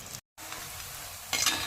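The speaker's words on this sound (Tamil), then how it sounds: "வெங்காயம் ஓரளவுக்கு இந்தளவுக்கு வதங்கி வந்துடுச்சு" Onions and green chillies fry in a clay pot for a prawn dum biryani, giving a steady close sizzle with a brief gap early on and a brighter crackling surge near the end.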